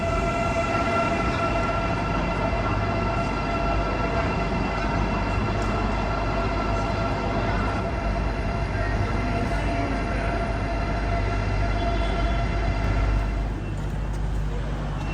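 A steady, loud rumble of a train with a sustained tonal hum over it, heard from nearby, with some indistinct talk in the background.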